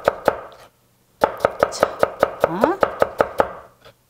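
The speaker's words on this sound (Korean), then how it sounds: "여기서부터 곱게 채를 썰어 주시면 돼요." A knife slices fine julienne strips on a wooden cutting board for Korean royal court cuisine, making two quick chops, a pause, then a brisk run of about a dozen evenly spaced sharp taps close by, with brief speech at the start.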